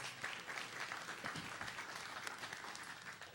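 Audience applause for a panelist at a political panel discussion, a steady wash of many hands clapping at moderate-to-faint level throughout.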